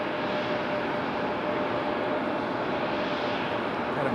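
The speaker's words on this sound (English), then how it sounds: "59 minutes of flight time for this A319 coming in at 23 left." An American Airlines Airbus A319 arriving from Philadelphia on runway 23 left at Raleigh-Durham International, its engines a steady, loud broadband roar that holds evenly throughout with no voices.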